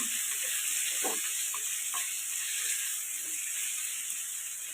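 Tomatoes frying in biryani masala give off a steady high sizzle, with soft occasional scrapes as the mixture is stirred in the pan.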